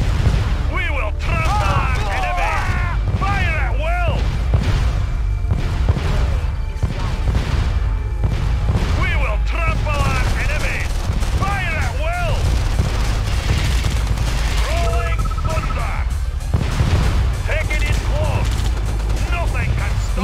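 Continuous gunfire and explosions from units in Red Alert 2 Yuri's Revenge, dense and loud throughout, mixed with shouted unit voice lines.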